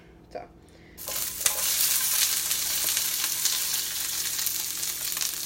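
Sliced peppers and onions hit a hot pan after a few soft clicks, bursting into loud, steady close-up sizzling with small crackles and scrapes, no talk.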